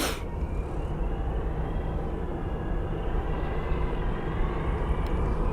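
An airliner roars steadily at Phoenix Sky Harbor airport, a broad, continuous engine rumble heard from nearby with no voices.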